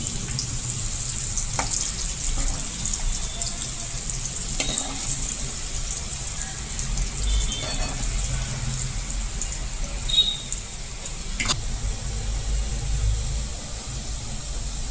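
Garlic frying in a pan for a Gujarati green black-eyed bean (lila chora) curry, a steady soft sizzle running the whole time with a few brief clicks of stirring, close and alone.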